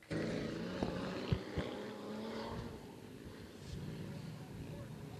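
An off-road race vehicle launches off the starting line on a dry lake bed during a King of the Hammers last chance qualifier, its engine roaring at a distance and then droning steadily, with a voice talking over it.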